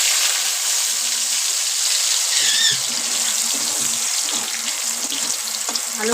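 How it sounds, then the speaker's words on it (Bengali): Potatoes frying in oil make a close, continuous hissing crackle with a few small pops and squeaks, steady in level, and no one speaks. "আলুগুলো একটু লাল লাল করে ভাজা হোক।"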